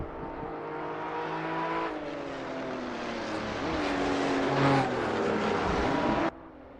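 Race cars from the Assetto Corsa video game scream side by side through a chicane at Imola, overlapping engine whines rising and shifting pitch with revving and downshifts, loud and continuous until an abrupt cut.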